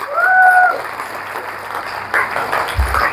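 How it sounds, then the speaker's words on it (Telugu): Seminar attendees clap fast together, a brisk, fairly loud patter of many hands that runs steadily through the few seconds after a brief tone at the start. "थोड़ा जल्दी जल्दी क्लैप्स मारो ताकि एक्साइटमेंट नजर आए"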